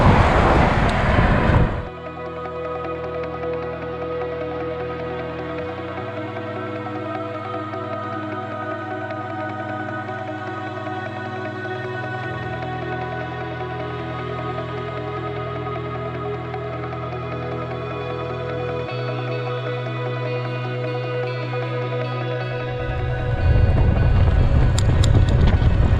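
Wind buffets a cyclist's microphone as they ride, producing a loud rushing roar at the start and end, with a steadier droning rumble of rolling motion in between.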